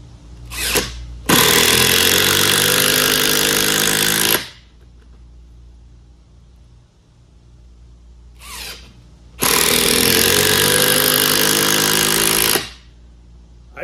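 A Hart power driver drives screws into wood without pilot holes in two loud bursts of about three seconds each, each preceded by a short blip, with quiet pauses between.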